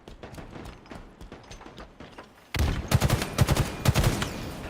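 Sniper rifle shots ring out in a Halo esports match, several sharp loud cracks in quick succession after a quieter stretch of game noise and faint voices.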